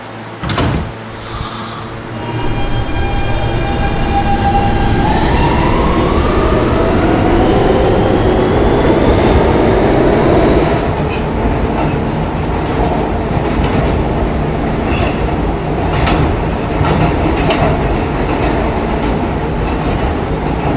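A Siemens R160B E subway train in a Roblox game rumbles loudly along the track, a brief electronic tone at the start giving way to a rising motor whine and steady rolling noise with rhythmic clicks, no voices.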